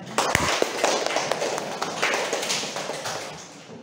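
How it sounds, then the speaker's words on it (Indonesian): A classroom of students applauds a classmate after a folk-poetry reading, a dense, steady patter of many hands clapping at once, loud and close, with sharper individual claps near the start and the noise fading slightly toward the end. "tepuk tangan untuk temannya"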